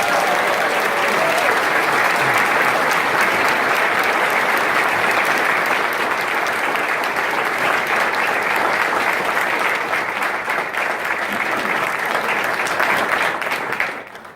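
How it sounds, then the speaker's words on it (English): Steady, dense applause from an indoor audience at a swearing-in ceremony for a new police chief in Oxnard, holding loud and even for about fourteen seconds before tapering at the very end. "Let's give him a round of applause."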